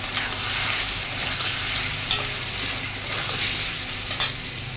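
Ginger-garlic spice paste fries in a pan for a boal fish dish with potato, tomato and onion, a steady bright sizzle with occasional utensil scrapes and pops recurring every second or so.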